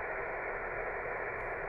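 Steady background hiss from a Yaesu 450D ham radio transceiver on an active antenna, a faint, even band of static with no voices or signals breaking through.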